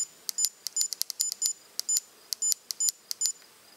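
A CPS BlackMax open-end torque wrench gives a quick run of short, high electronic beeps as its buttons are pressed, some single and some doubled, in an uneven rhythm, close and clear with no talk.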